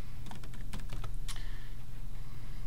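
Keys on a computer keyboard tapped in a short burst of clicks while a document name is entered, the typing near and fairly quiet over a steady low hum, trailing off after about a second and a half.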